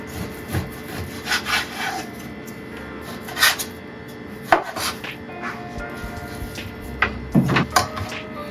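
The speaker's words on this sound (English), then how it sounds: "So I'm just going to cut it into little cubes" A knife chops a piece of pork into chunky cubes on a wooden board: a series of close, irregular knocks and scraping cuts with quiet pauses between them, with no voices.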